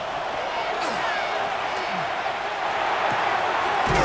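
Stadium crowd in the Madden 26 football video game, a steady, dense roar of many voices rumbling on at a constant loud level, with occasional brief sharp impacts and a louder swell at the very end.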